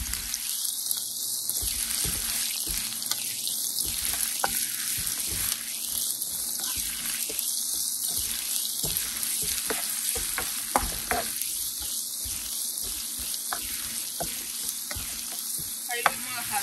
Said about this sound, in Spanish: Ahí lo vamos a dejar por unos 5 minutitos hasta que se sofría el nopalito y la cebolla